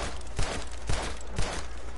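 Three evenly spaced gunshots from Red Dead Redemption II, each a short low thump roughly half a second apart, over a constant game background.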